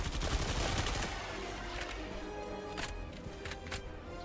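Rapid AK rifle gunfire in Helldivers 2, a dense burst of shots up front that thins into scattered cracks and distant pops over a busy battlefield backdrop.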